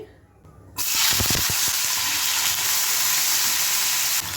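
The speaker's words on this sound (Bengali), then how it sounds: "তেলটা গরম হয়ে গেছে, দেখো এবার আমি আলুগুলো দিয়ে দিচ্ছি" After a near-silent moment, potatoes drop into hot oil and set off a sudden, loud, continuous sizzle that stays strong and close until the end.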